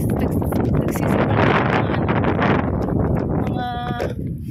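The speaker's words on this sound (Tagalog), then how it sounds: "Sobrang hangin." Strong wind gusts roar against the microphone outdoors by a lakeside park on a breezy spring day, a loud, continuous buffeting rush with a faint tonal whine near the end and people talking underneath.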